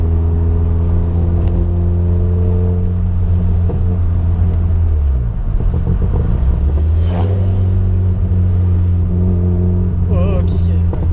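A Peugeot 106 S16 drives slowly along a Japanese road, its engine a loud, steady low drone inside the car that dips and rises briefly midway before settling back to a calm cruise.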